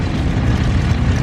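A biplane's propeller engine runs at a steady, loud, dense drone at an airshow, close by and continuous, with no voices.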